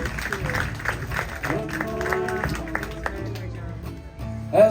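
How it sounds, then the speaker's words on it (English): Applause from an audience at a cultural performance by students from Fiji and their musicians in Hawaii: steady clapping runs throughout, while music with sustained tones plays over it. "Please keep applause going for our performance, full-time students from Fiji and our musicians as well"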